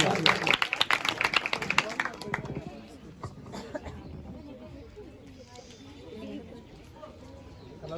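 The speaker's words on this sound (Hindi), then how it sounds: "इनके लिए जोरदार तालियां।" Applause from school students in a classroom or school hall, a brief uneven burst of clapping that fades after about two seconds and leaves quiet room murmur and faint voices.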